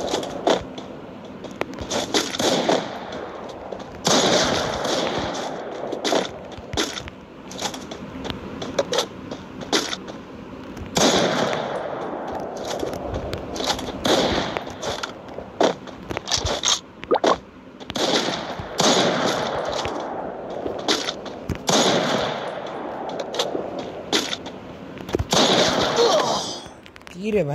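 Gunfire in the mobile shooter Free Fire: rapid cracking bursts and sharp shots repeat in clusters throughout, loud and close, with a voice talking over the action.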